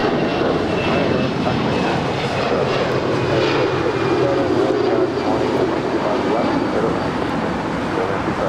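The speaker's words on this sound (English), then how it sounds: "525 departing to Seattle. It's an 11-year-old Airbus A320." An 11-year-old Alaska Airlines Airbus A320 departing LAX for Seattle gives a loud, sustained jet roar with a broad rushing rumble that swells slightly midway and continues without voices.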